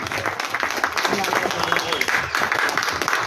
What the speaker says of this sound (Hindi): जोरदार तालियां दीपक जी के लिए।